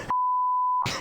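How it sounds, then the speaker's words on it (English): A single long censor beep, a steady pure tone held for most of a second, cutting over speech that is audible briefly before and after it. "I'm just gonna put a huge long beep."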